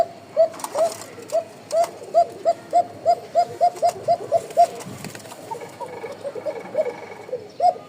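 Pigeons coo in a quick run of repeated soft calls at moderate distance, then pause and resume with a few scattered coos over low background noise.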